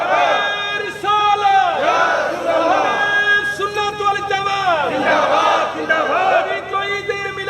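A large crowd at a Bangla Islamic sermon gathering chants the takbir together, loud massed voices rising and falling in repeated waves with strong harmonic shouting throughout.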